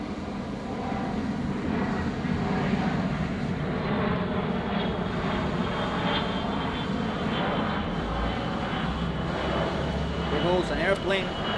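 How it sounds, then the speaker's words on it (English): An airplane drones steadily overhead outdoors near power lines, a loud continuous engine roar that fills the whole span without letup. "An airplane."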